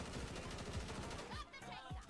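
Secondary weapon gunfire in Payday 2: a fast, steady burst of shots hammering continuously for about a second and a half, then two or three separated reports follow under a busy game mix.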